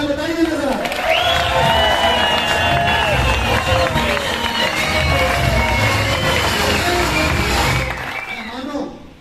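Crowd cheering and clapping at an Independence Day event in Pakistan, loud and sustained with whoops and shouting voices over a dense roar that fades out near the end.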